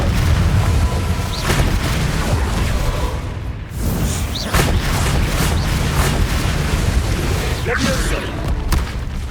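Confringo fire blast spells explode in Hogwarts Legacy, booming blasts and whooshes within a loud, continuous battle din with a voice calling out spells.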